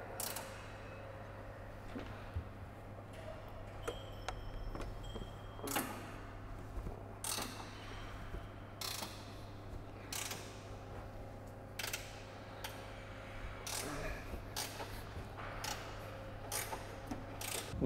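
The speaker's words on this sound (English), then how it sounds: "situations like this is where a ratcheting wrench comes in great" A ratcheting wrench works a sway bar bolt on a Ford Mustang S550, making faint, repeated clicks and creaks in an irregular rhythm over a low steady hum, with no talking.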